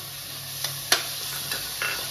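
Chopped capsicum stirring and frying in oil with already-browned onion for pav bhaji, a steady soft sizzle broken by a few sharp scraping stir strokes, close and alone.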